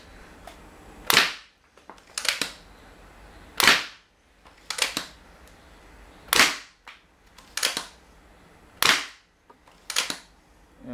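A modified marshmallow crossbow fires slug darts in six sharp snapping shots, each a loud crack followed by a brief rattle, spaced roughly every one to two seconds with quiet handling between them.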